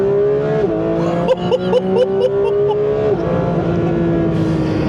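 A 2025 Porsche 911 GT3's 4-liter engine, revving to 9,000 RPM, screams loudly and continuously, its pitch climbing and shifting through rapid gear changes with a few brief throttle blips.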